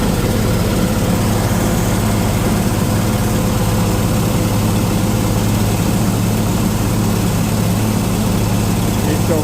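A Farmall 400 tractor engine runs steadily at close range, a loud, continuous low rumble with no break in its drone.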